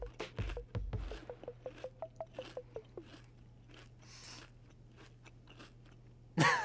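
Someone chews and bites into a freshly made dish while tasting it, a rapid series of about a dozen crunchy, regular bites up close, with a steady low hum underneath and a sharp noise at the very end.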